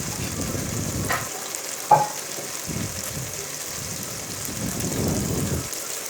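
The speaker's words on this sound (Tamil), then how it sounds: "நல்லா வெங்காயம் தக்காளி பச்சை மிளகாய் இது பூண்டு எல்லாத்தையும் போட்டு நல்லா வதக்கி விடுங்க" Onion, tomato, green chili and garlic are sautéed in a pan for a Hyderabadi vadi biryani, a continuous close sizzle broken by occasional scraping stirs and a single sharp utensil clink.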